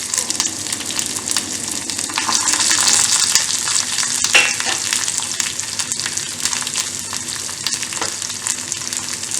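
Small chopped onion frying in a pan for brinjal kuzhambu, a loud steady sizzle close by with stirring scrapes throughout, no talk.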